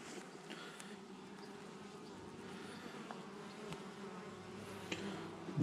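Honeybees buzzing at the hive of a weak swarm during an inspection, a constant low drone that stays faint and steady throughout, with occasional closer passes and no speech.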